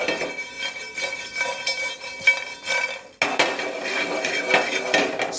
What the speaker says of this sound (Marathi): ड्राय रोस्ट करत असताना ना त्याला सारखं चालवत राहायचं बरं का